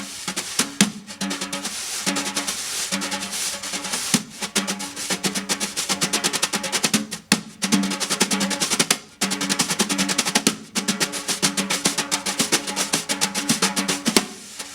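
Drum brushes swish and scrape across a drum in a quick, steady shuffling rhythm with sharp accents, imitating a sand dancer's feet sliding on a floor spread with sugar or salt.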